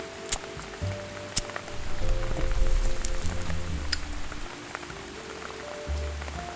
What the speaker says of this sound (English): I looked around at the rain hitting the puddles